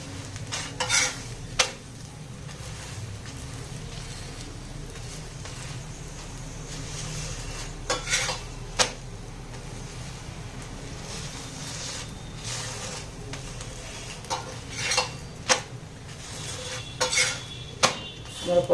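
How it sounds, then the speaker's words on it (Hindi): Potato paratha roasting on a hot pan, with soft sizzling under scattered clinks and scrapes of a utensil as the flatbread is flipped and pressed, close and steady throughout. "हम दुई पटु ओलट पालट करी परोटा को भलो भाबे सेकी नेबा"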